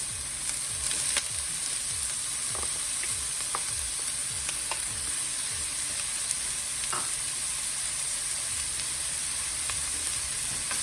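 Chopped carrots and onion saute in a hot pan with a steady, moderate sizzle, broken by repeated scraping strokes of a stirring utensil.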